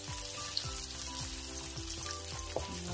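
Ginger sizzling in oil in a pan after garlic and onion, a cooking step for tinolang tahong, a mussel soup; a steady, close frying hiss with occasional clinks of stirring and no talk.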